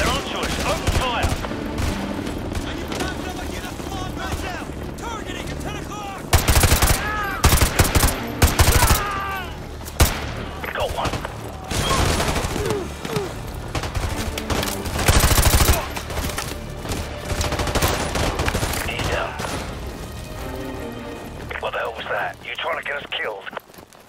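Rapid automatic gunfire in the H2-Mod video game: loud bursts and sustained volleys over roughly twenty seconds, mixed with game voices shouting commands amid the shooting.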